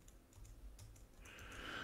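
Rapid typing on a computer keyboard while working on code, a quick run of light, close clicks and taps that thickens toward the end, with no talk.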